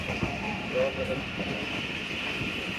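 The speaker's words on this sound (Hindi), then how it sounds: "गाड़ी बहुत स्लो पास हो रही है" Train passing slowly through a railway station in Pakistan, heard from on board the Karachi Express between Lahore and Multan as a steady rumbling drone with a high whine, under faint voices.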